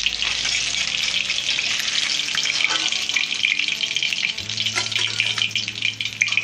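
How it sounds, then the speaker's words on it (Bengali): Pabda fish fry in hot oil with a dense, continuous sizzle and crackle, close and fairly loud, with occasional stirring clinks and no voices. "এইভাবে সবগুলো মাছ আমি ভেজে নেব"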